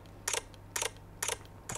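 A Sony A1 camera shutter clicks four times in an even rhythm, each a short crisp burst, close up and fairly quiet over a steady low hum.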